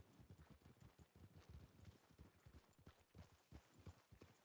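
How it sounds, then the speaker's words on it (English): Horses in the Red Dead-based game WildRP clip-clop along with soft, irregular hoofbeats, fairly quiet and at a moderate distance, with no talk over them. "There's horses over there."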